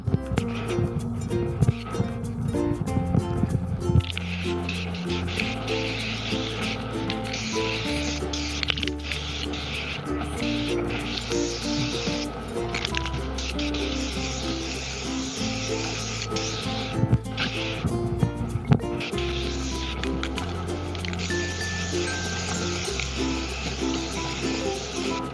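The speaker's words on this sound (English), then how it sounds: "So I'm gonna do a little spray painting here." Hissing bursts of spray paint cans coating a GatorTail duck hunting boat come in several long passes with short gaps, partly under steady background music.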